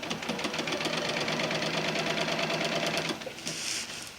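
A sewing machine stitches an underquilt with 100% polyester Gutermann thread, running in a steady, loud, close mechanical chatter for about three seconds before slowing and easing off near the end.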